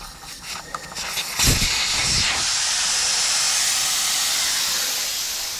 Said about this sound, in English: Just let the air out of the tires